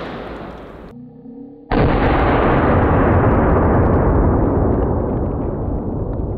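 A 5.56 rifle shot fired at a steel chain outdoors, a brief roar cut off for a moment, then a loud, sustained booming blast that decays slowly, close and very loud.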